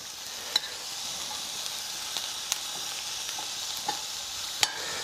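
Zucchini slices browning in a pan give off a soft, steady sizzle throughout, with a few faint clicks and taps scattered across it and no voices.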